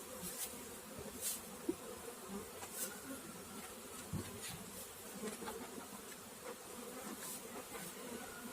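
Honey bees buzz steadily around beehive frames as an upper hive body is smoked and cleared, a dense, continuous drone with individual insects swelling close by now and then.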